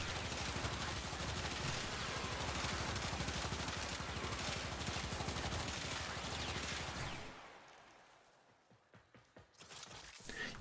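Rapid automatic gunfire from weapons in the video game Warframe rattles continuously for about seven seconds, then breaks off into a few scattered, quieter shots.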